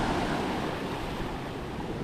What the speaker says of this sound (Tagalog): Aba! Alon.